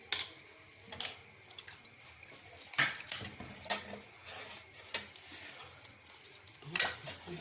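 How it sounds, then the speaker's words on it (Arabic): A spoonful of tomato paste stirred into soup in a pot, with quiet scattered clinks of a metal spoon against cookware and faint stirring, close but soft. "نحط معلقه صلصه في الشوربه"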